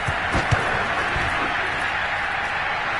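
Stadium crowd roaring steadily after a touchdown in a Madden football video game, a dense sustained cheer with a few louder thumps near the start.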